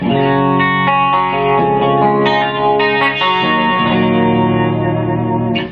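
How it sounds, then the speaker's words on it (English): Electric guitar chords ring out with a shimmering, wavering chorus effect and reverb, played loud and alone with a few chord changes. "Or if I want to add some chorus."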